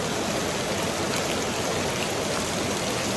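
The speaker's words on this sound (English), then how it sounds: "We have not had this kind of rain probably all year." Heavy rain pours down during Hurricane Helene, a loud, dense and unbroken roar of water close by with no voices.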